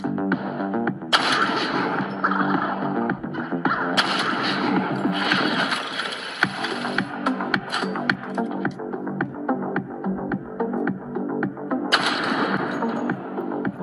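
Rapid gunfire from a shooting mobile game, dense repeated shots running throughout over busy game music and effects, steady and loud with no pauses.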